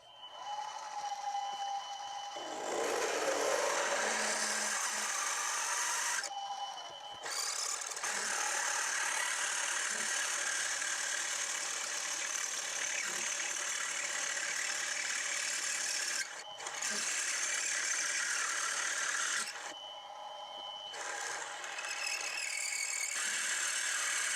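A lathe drills a steel collar for a Quorn Mk3 tool grinder, using a drill one sixty-fourth under half an inch. A steady, loud whirring rattle runs throughout, cutting out briefly a few times.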